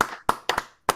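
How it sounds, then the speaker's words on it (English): A few sharp hand claps, four or five irregular close slaps in a sparse round of applause at an award show. "Round of applause."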